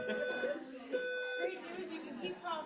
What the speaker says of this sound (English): This is not an actual fire alarm.